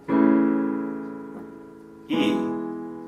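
A major chord struck on piano, ringing and slowly decaying, then a second chord struck about two seconds later, clean and close with no talking.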